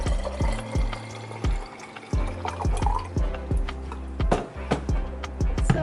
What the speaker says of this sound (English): So pouring in cool water.